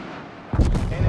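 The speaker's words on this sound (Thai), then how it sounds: "เฮ้ยระวังระเบิด" A sudden booming blast erupts after a quiet lead-in, followed by a rumbling, crackling roar, an explosion in Call of Duty: Black Ops Cold War.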